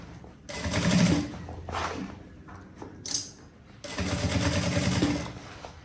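Domestic sewing machine stitching a short seam on a Trisse fabric handbag, two loud buzzing bursts of rapid stitching separated by a quieter pause with light handling clicks, close up.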